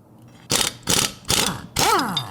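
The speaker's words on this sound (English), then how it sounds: "Click it in place, and start threading the screw in." A small screw turns into a metal red dot adapter mount on a Sig Sauer Mosquito pistol, giving four loud, close bursts of grinding, ratchet-like metallic scraping separated by short pauses.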